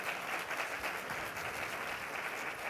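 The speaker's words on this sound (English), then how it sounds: "let's give an amazing round of applause to this panel, to Cheryl." An audience applauds steadily throughout, a dense wash of many hands clapping at moderate volume without letting up.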